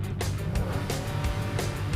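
Engine of a Chevy or Ford cop car with about 200 horsepower, driven hard on a dusty track during a thrash race: a steady, loud, rough roar with road and wind noise, continuous throughout.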